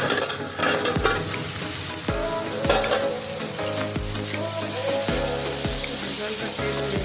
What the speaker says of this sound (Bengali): গ্যাসের ফ্লেমটা আমি মিডিয়ামে রেখে ভেজে নেব যতক্ষণ না সিদ্ধ আছে।